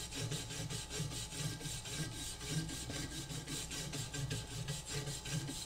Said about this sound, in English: we'll just brush off a portion of this leaf spring to make sure that we don't have any loose particles on there